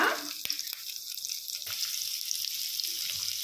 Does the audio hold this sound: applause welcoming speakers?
no